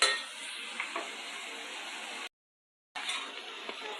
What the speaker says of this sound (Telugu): ఈ విధంగా అన్నీ మీడియం ఫ్లేమ్ మీద చక్కగా ఫ్రై అవనిద్దామండి.